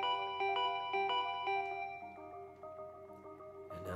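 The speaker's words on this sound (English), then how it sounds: "And now the doorbell won't stop ringing." Doorbell chime from the video game Danganronpa V3, ringing repeatedly in a steady insistent pattern of bright tonal strikes, loud and continuous over quiet background music.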